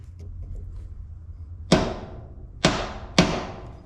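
Hammer tapping a center punch on metal to mark a drilling spot on a John Deere 787 strip-till implement, three sharp ringing metallic strikes at close range, irregularly spaced after a low quiet hum.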